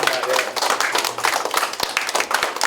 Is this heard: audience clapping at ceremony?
yes